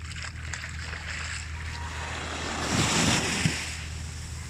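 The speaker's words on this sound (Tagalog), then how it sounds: "Yung lagaslas ng tubig talaga." Sea water washing and lapping against the shore at La Union, Philippines, a steady rushing wash with a low engine-like rumble and some wind noise.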